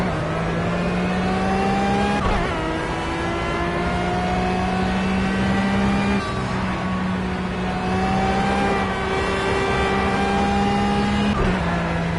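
A racing car engine from a racing video game holds a steady, loud drone throughout. The pitch climbs and drops as gears change, with brief breaks near 2 and 11 seconds and no talk over it.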